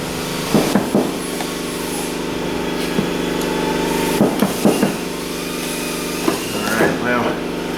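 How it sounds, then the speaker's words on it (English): A power driver runs screws into the heater box assembly of a Dodge Ram, with several short buzzing bursts over a steady engine-like hum while someone talks nearby. "now we can put the screws to it"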